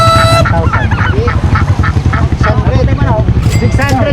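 Geese at an animal market honk loudly and close up, a rapid string of harsh, repeated calls overlapping one another without pause.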